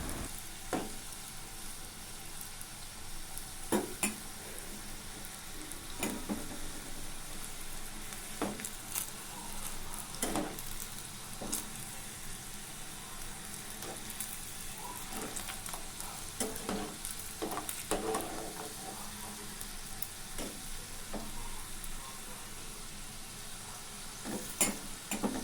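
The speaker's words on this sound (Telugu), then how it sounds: "మెల్లిమెల్లిగా కలుపుతూ బాల్స్ బ్రౌనిష్ వచ్చే వరకు వేయించుతూ ఉండాలి." Bread gulab jamun balls deep-fry in hot oil, a steady close sizzle broken by occasional stirring scrapes and taps of a spoon, with no talking.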